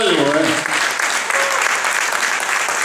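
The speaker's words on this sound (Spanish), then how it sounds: "Un aplauso para don Rubén Calvo" Loud, close crowd applause at a community gathering, dense steady clapping with a voice trailing off at the start and a brief vocal tone midway.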